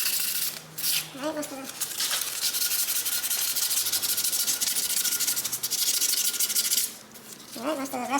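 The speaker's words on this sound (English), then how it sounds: "might as well take out the rust and sand it off" Abrasive sanding scrubs rust from a front brake disc on a 2006 Mercedes-Benz E350 W211, a steady close-up rasping rub that runs nearly the whole time, with brief pauses near the start and end.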